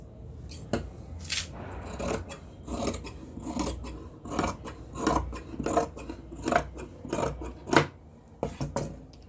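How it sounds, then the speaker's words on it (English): Scissors cut through fabric close by in a series of uneven, rasping snips and slides, loud and clear with short pauses between cuts and no talking. "So I can cut out this fabric now."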